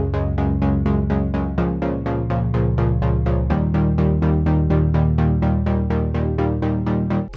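Synth pluck built from stock Logic Pro Alchemy and audio effects, playing a steady, fast repeating pattern of bright plucked notes over a sustained bass that shifts pitch twice, loud and alone with no talking.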